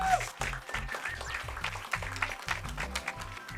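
Audience applause and cheering at a Mario Kart Wii glitch showcase during a speedrunning charity event, a continuous patter of clapping with scattered shouts, moderately loud and unaccompanied.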